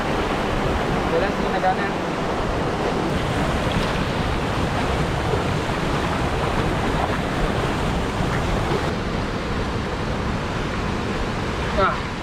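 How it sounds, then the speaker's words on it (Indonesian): Lubuk Abarangin waterfall in Malalak, near a strong, deep river current, roars as a steady, loud, continuous rush of falling water; a voice speaks briefly over it. "Tuh air terjun Lubuk Abarangin."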